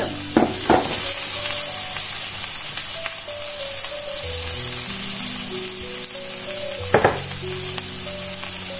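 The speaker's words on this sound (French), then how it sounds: "je vais mettre mes haricots verts dans la poêle" Pre-cooked green beans fry in a pan, giving a loud, continuous close sizzle with a couple of sharp clattering stirs near the start and again later.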